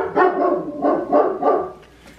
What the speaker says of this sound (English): See, y'all know this dog never lets me do my thing in peace.